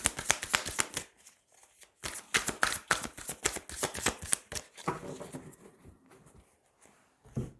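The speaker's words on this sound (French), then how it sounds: "Allez, on va tirer 3 cartes." Tarot cards shuffled in quick riffling bursts, then a pause before more shuffling and the soft slide of cards being drawn and laid down, close and fairly quiet, no talk.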